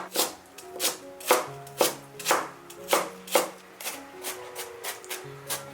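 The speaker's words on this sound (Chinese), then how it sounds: "再把它切成小丁。" A knife chops peeled lotus root into small dice on a cutting board, a run of about a dozen crisp, evenly spaced taps that grow lighter toward the end, close and alone.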